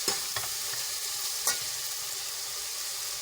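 Spices and dried fenugreek are stirred into palak frying in a pan, giving a steady broadband sizzle with a few soft scraping stirs near the start and around the middle, close and fairly loud, with no voices.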